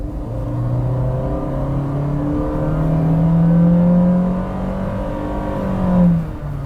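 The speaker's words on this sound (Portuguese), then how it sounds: "Você só nota que ele está ali fazendo o seu ruído característico quando você pisa fundo." Cabin drone from a Honda City Touring's 1.5 engine under hard acceleration, a steady low rumble climbing and holding through the gear with a brief surge near the end, no voices.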